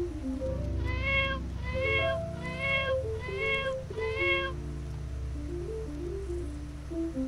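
A cat meows several times in quick succession, clear high meows set over a bouncy children's song melody, followed by the music continuing alone.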